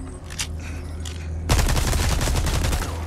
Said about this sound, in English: Should I try and shoot him from here?